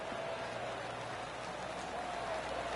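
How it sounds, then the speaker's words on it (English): Polite golf-clap applause from the crowd in a PS4 golf video game, a soft, even patter of many hands that holds steady and sounds almost like light rain. "Oh, golf clap."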